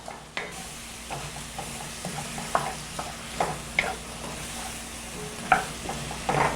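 Potatoes with gochujang, garlic and stock stir-fried in a pan, a soft steady sizzle broken by repeated scrapes and clinks of a utensil stirring against the pan, with no talking.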